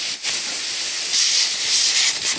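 Compressed air blasts through a Briggs and Stratton E Series lawn mower carburettor in a loud, close hiss that dips briefly near the start and swells stronger midway, with no speech.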